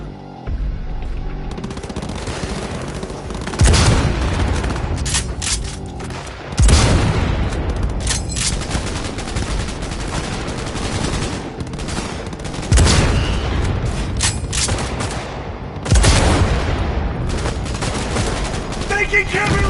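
Gunfire in Cyberpunk 2077 rattles on throughout in bursts, with heavy booming shots at several points and voices speaking under the fighting.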